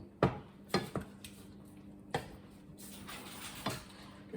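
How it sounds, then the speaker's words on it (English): Utensil scraping and tapping as a meat mixture is stirred in a cooking pan on the stove, with several distinct clinks spaced irregularly over a low steady background hum, fairly close and moderately quiet. "she's going to stir it around, and it needs to be cooked for another 4 minutes"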